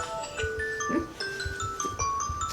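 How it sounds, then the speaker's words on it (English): A bedtime alarm going off indoors: a chiming electronic melody of stepped, sustained tones plays at moderate volume, with soft ticks and clicks beneath it. "The Ready for Betty alarm."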